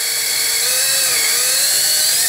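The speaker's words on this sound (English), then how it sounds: "I'm using an electric drill." Electric drill boring a hole for a cheap homemade wheel-dishing tool, a steady high whine with a slowly wavering pitch, loud and close, continuous without talk.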